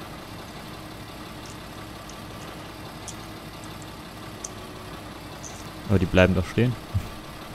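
A Fendt tractor idles in Farming Simulator 2013, giving a steady, low, moderately quiet engine rumble throughout. Near the end, a voice speaks over the rumble.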